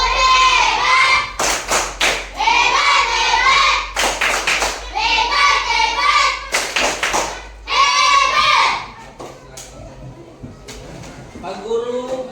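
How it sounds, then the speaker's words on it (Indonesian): A classroom group claps in several loud bursts of rapid, uneven applause separated by short pauses, followed by quieter shuffling and a few taps, with children's voices mixed in. "kita kasih tepuk hebat untuk kelompok 3"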